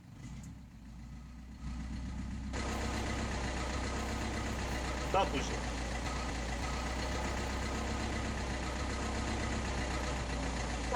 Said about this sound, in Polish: Odpalę ciągnik od razu.